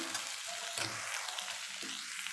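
Boiled potato mixture with fresh grated coconut, cooked for a fasting dish, being stirred in a hot pan, with quiet continuous sizzling and a few soft scraping strokes close by.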